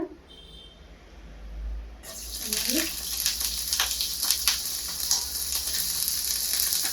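Hot oil sizzles steadily in a pan as onions go in to fry, a loud continuous crackling hiss that starts abruptly and keeps going with small spitting pops.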